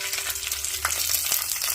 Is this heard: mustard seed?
yes